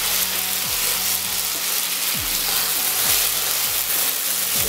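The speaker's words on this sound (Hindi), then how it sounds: "फिर से हम थोड़ा भून लेंगे।" Spice paste for cream chicken biryani sizzles steadily in a hot pan, a loud, even frying hiss with occasional soft scrapes of stirring and no talking.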